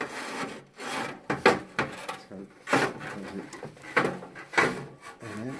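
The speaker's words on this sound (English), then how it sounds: "we're going to put the brush up there and turn the hoover on" A chimney sweep's brush scrapes and rubs inside a wood burner flue while a vacuum runs. Repeated rough strokes come in uneven bursts, with knocks and scraping against the flue walls, fairly close.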